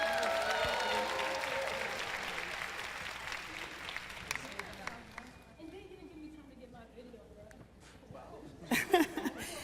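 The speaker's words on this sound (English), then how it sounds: "Please give them a round of applause as they come" Conference audience applauding panelists as they come onstage, a broad wash of clapping with some laughter and crowd murmur that gradually thins out, and a voice speaking near the end.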